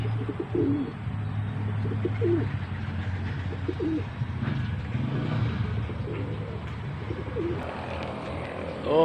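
Racing pigeons coo in a morning loft, with several birds giving repeated low, throaty coos that overlap continuously at close range over a steady background hum.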